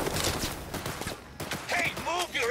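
Gunfire in Cyberpunk 2077: bursts of rapid shots crackle across the first second, then a pause and more bursts mixed with synthetic whines and game effects, loud and close, with a voice also present.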